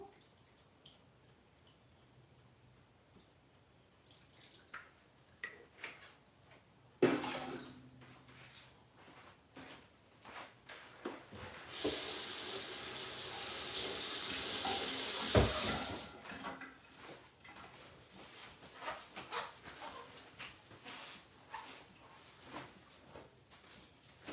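Tap water runs into a container while yarn is hand dyed, a steady hissing rush lasting several seconds at close range. Scattered clinks and drips come before and after it.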